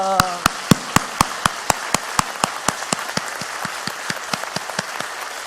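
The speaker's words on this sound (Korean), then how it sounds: "방금 쳤던 여러분의 이 감사의 박수가 영원히 끊이지 않는 그런 감사가 되시기를" A church congregation claps in unison in thanks, a steady rhythmic beat of sharp collective claps about four per second over a soft background of voices.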